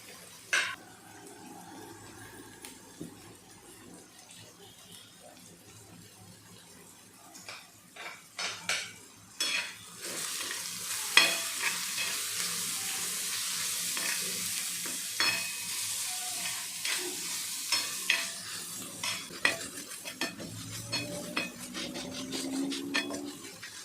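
Dried shrimp (jawala) chutney sautéed in a pan, steady sizzling with repeated metal spoon scrapes and clinks against the pan that grow louder and busier partway through.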